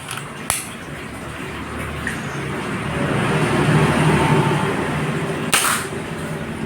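A Marauder PCP air rifle with an Alfa barrel gives two sharp pops, one near the start and another later, each rising briefly above a continuous outdoor rumble.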